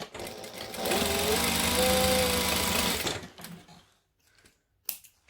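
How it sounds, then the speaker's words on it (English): Sewing machine stitching a half-inch seam on a bag lining, a steady fast motor whir with needle chatter running for about three seconds, then stopping into a few faint clicks and a short rustle. "I'm just going to stitch with a 1/2 inch seam allowance along that edge"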